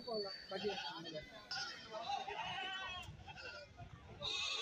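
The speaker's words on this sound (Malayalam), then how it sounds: "ഇതെല്ലാം കച്ചവടം കഴിഞ്ഞ ആടുകളാണെന്ന് തോന്നുന്നു വണ്ടിയുടെ സൈഡിൽ കെട്ടിയിരിക്കുകയാണ്" Goats tied beside a vehicle at a busy goat market in Kerala bleat repeatedly amid constant crowd chatter and voices.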